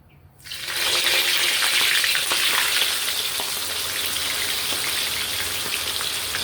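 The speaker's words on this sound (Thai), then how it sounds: "น้ำมันเราเริ่มร้อนแล้วนะครับ เราก็นำเนื้อปลาลงไปทอดเลยครับ" Loud, steady sizzling of tilapia fillets frying in hot oil in a pan, beginning abruptly and crackling continuously close up.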